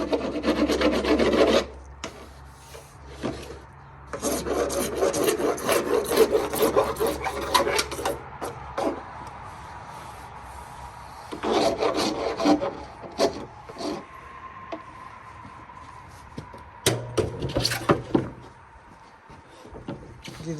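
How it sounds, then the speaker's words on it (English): A file rasps away the sharp edges of freshly cut PVC pipe for a homemade chicken feeder, making repeated back-and-forth scraping strokes in bursts with short pauses between them, close and clear with no voices. "He's just filing off the sharp edges where he cut the PVC."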